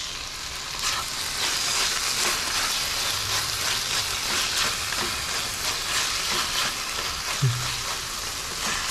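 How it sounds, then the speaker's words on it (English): Tomatoes frying in a pan for mutton sukha masala give a steady, close sizzle with a few soft stirring scrapes. No one speaks. "I'm going to add the tomatoes."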